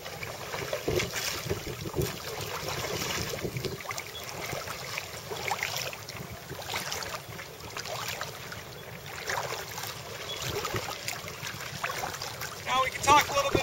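Stand-up paddle strokes dip into open water from a board, soft repeated splashes and trickles under wind buffeting the microphone, with someone talking throughout.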